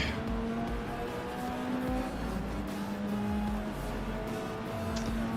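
A race car in the Forza Motorsport video game, its engine droning and revving through gear changes with tire squeal, played continuously at moderate volume.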